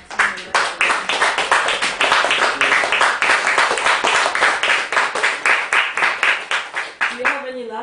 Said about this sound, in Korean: 늦은 시간까지 함께 해준 보스틸스 분에게 박수 한 번 보내주고